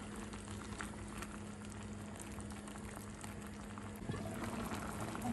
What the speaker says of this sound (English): as you can see, the soup is already boiling